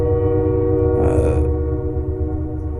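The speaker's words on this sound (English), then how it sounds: "By the way, apologies for the train." A train passing close to a house near a train station gives a steady, loud rumble with a tonal horn-like drone, and a brief hiss of brakes or air bursts out midway.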